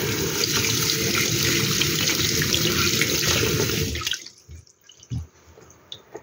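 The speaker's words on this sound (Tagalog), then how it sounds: "Ngayon naman po is yung malinis na tubig naman ang ating ihuhugas." Tap water runs steadily over pickled mustard greens being washed for about four seconds, then stops, leaving a few faint drips and handling clatters.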